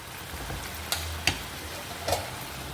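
Chicken fries in a pan for fried rice with a soft, steady sizzle, marked by three light taps or scrapes as it is stirred, with no talk.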